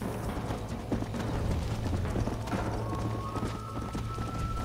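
Steady hoofbeats of a horse ridden in the video game Red Dead Redemption, a rhythmic clip-clop over ambient game sound and mechanical clicks, with a faint whinny.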